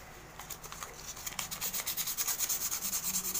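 Sandpaper rubs back and forth over a heavy-duty splicing knife in a rapid rhythmic scraping, starting light and growing louder and more regular with close, even strokes.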